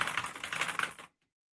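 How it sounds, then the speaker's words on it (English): Computer keyboard typing during an editing stream, a dense run of quick close clacks for about one second, then silence. "Yeah, just keyboard clack."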